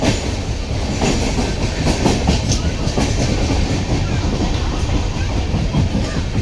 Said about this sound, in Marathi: ठाणा स्टेशन सुटली आहे गाडी आपली